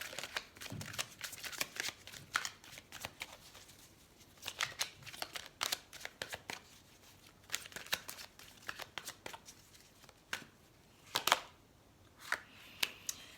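Tarot cards being shuffled, drawn and handled, with soft papery flicks, slides and taps coming in scattered bursts, fairly close and quiet, with no talk over them.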